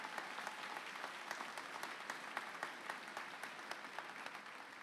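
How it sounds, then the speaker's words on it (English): Audience applause at an 8th grade moving up ceremony at Lynch Literacy Academy, honoring distinguished guests: steady, moderately distant clapping from a crowd that continues evenly throughout without voices. "A little round of applause for our distinguished guests"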